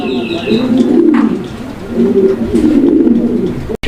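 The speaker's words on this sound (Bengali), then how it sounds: "হান্ড্রেড পার্সেন্ট ডাকের কবুতর খুবই চমৎকার একটা পেয়ার" A pair of fancy pigeons at a sale cooing steadily in low, throaty rolling calls, close by and continuous, with a faint higher chirp early on.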